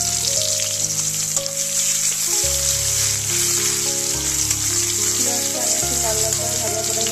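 Steady, loud sizzling of onions and dried red chillies frying in hot oil continues throughout, with a low hum underneath.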